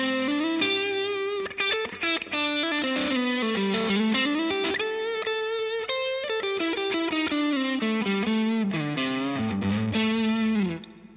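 Electric guitar played through a TC Electronic Dark Matter distortion pedal rings out with thick, saturated chords and melodic runs, sustained and loud throughout with no talking.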